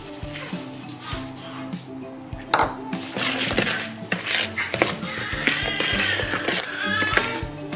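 A spoon scrapes and knocks against a bowl while mixing cookie dough for lactation cookies, giving a run of close, irregular clinks and rubbing scrapes that grow busier and louder partway through.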